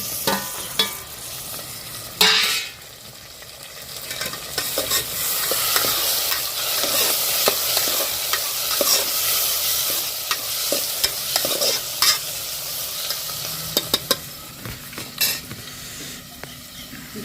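Tomatoes fry and sizzle in a pan with steady stirring, a spoon clinking and scraping against the metal now and then over a continuous hiss, close and fairly loud with no talking.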